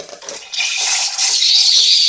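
The steam wand of a DeLonghi La Specialista Maestro espresso machine froths milk in a jug, giving a loud, close, continuous airy hiss that swells and settles into a steady whoosh.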